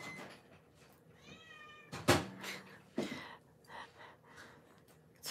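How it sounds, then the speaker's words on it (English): A pet cat meows at feeding time: a few short, close meows, including one rising whine, mixed with clinks and knocks of feeding-time handling in a quiet room. "It's feeding time for our cat."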